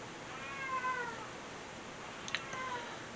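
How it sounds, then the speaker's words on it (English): A pet cat meows indoors, a soft drawn-out call followed by a short sharper chirp, faint and close with no talk. "Cat, damn you."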